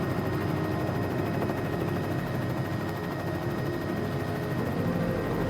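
A steady, dense Bell 206L3 helicopter drone of engine and rotor in Microsoft Flight Simulator 2020 holds at constant loudness throughout, with no voices.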